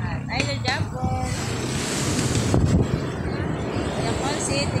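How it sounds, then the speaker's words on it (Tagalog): Big sea waves surging at a seaside shore with steady wind buffeting the microphone, a continuous loud wash of surf throughout, with brief voices and boat-like tones faintly mixed in. "malalaking alon"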